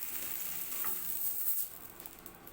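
Meat and potato curry simmers in a pot with a soft, steady bubbling sizzle, faint and close, easing slightly in the final second.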